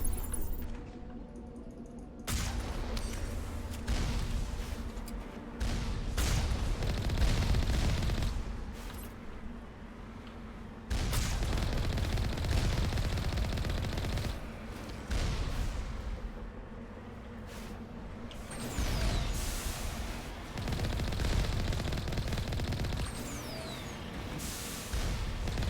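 Turrets fire in Mass Effect in repeated loud bursts of rapid gunfire, broken by brief pauses and heavy booming impacts.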